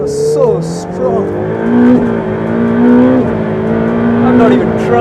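Car driven hard on an autocross track, its engine revving high and holding near the rev limiter, with a strong buzzing tone that rises, dips and climbs again over several seconds.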